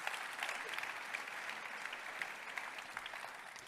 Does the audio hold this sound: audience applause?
yes